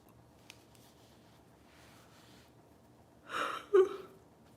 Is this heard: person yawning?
yes